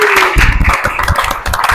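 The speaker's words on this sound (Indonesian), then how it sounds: "tepuk tangan dulu untuk kalian semua" A classroom of students claps together in a short, loud burst of close, overlapping hand claps, with a brief tone at the start.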